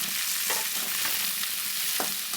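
Onions fry with chana dal, mustard seeds and cumin seeds, producing a steady, close hiss of sizzling oil broken by a few soft stirring scrapes.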